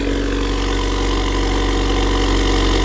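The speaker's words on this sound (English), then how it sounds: "But let's start it up, see what it sounds like. Here's a cold start." An Acura RDX turbo engine fitted with an ATLP catback exhaust idles after a cold start, producing a steady, close, low rumbling drone with a slight rhythmic knock and no voices.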